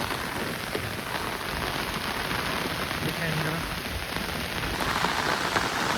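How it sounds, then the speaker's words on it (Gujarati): Steady rain patters densely on a surface nearby, an even hiss throughout. "વરસાદ આવે છે ધીમી ધારે ચાલુ છે"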